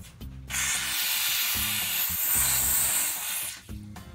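Compressed air and moisture blast from an air compressor tank drain in a loud, continuous hiss of about three seconds, starting abruptly and tapering off, with a low rumbling hum before and after.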